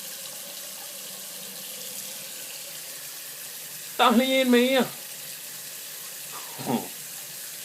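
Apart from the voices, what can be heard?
water running from a tap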